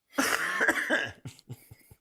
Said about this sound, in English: I haven't coughed all day